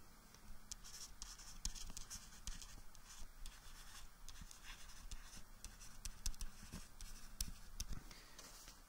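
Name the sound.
writing words on a board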